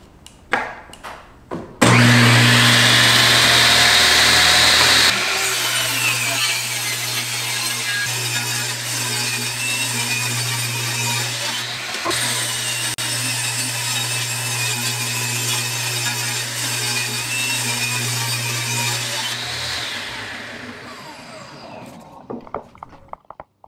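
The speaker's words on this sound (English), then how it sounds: "And I always recommend with a table saw using hearing protection because it gets a little loud." A table saw cutting wood for a cheap DIY desk: a loud motor spins up to a strident whine, holds a steady drone under load for about fifteen seconds, then winds down and fades.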